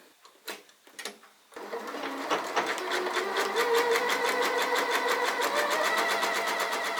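A sewing machine runs a satin stitch along a dress, starting after a few handling clicks into a fast, even, continuous rhythmic chatter up close.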